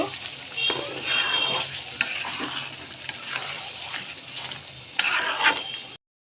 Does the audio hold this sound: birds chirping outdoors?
no